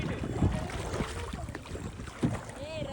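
A small rowing boat moves on water, with soft splashes and ripples from the oars, gentle wind and a few quiet knocks, with no talk.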